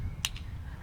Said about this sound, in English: Cracking the beer is like clapping.